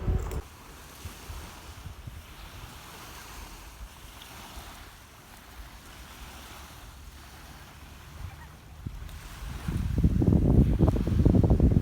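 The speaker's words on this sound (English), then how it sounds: "So I found the sea, which is pretty lovely, but the shore itself is kind of gross." Sea waves wash against a shore under outdoor wind noise, a soft continuous rush that swells louder near the end, with no voices.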